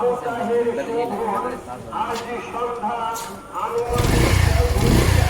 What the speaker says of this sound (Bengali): দাও কিক দাও